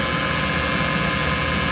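A distributor spins at about 1,000 rpm on a vintage Sun distributor tester, giving a loud, steady motor whir and hum with fine rapid vibration throughout and no pauses.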